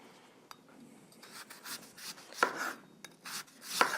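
A knife slices root vegetables into thin, even rounds on a cutting board, with irregular quiet cuts and a few sharper taps against the board.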